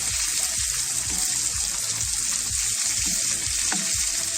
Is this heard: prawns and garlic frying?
yes